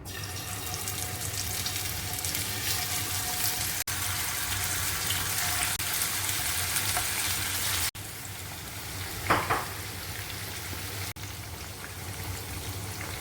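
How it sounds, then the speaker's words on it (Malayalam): Masala chicken frying in the oil already used for fries: a steady, close, hissing sizzle with dense crackle throughout, broken by a few brief gaps and a short clatter partway through. "ഫ്രൈസ് ഫ്രൈ ചെയ്ത എണ്ണയിലേക്ക് തന്നെ നമുക്ക് ഈ ചിക്കനും കൂടെ ഒന്ന് ഫ്രൈ ചെയ്തെടുക്കാം."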